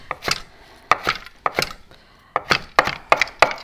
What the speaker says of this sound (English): what we're going to do is we're going to chop our cilantro